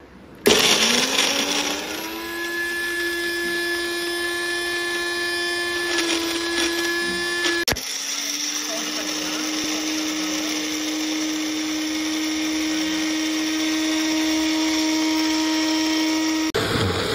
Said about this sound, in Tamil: இப்போ மிக்ஸி ஜாரில் போட்டு அரைச்சிடலாம்.